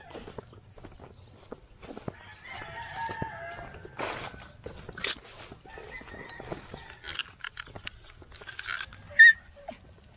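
Native chickens cluck in scattered bursts around a farmyard in the Philippine countryside, with a brief crow from a rooster and footsteps and rustling mixed in, moderately close and without speech.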